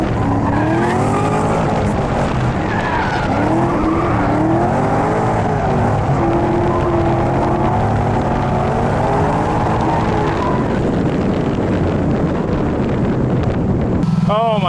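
An FC truck driven hard, its engine roaring close and loud with pitch rising and falling through the pulls, while wind buffets the microphone throughout.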